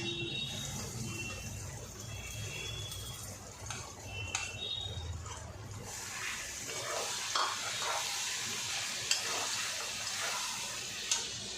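Spice mix frying with softened onions for a mutton liver chachchari, stirred in the pan, a steady sizzle with scraping and a few sharper clinks near the end, no talking.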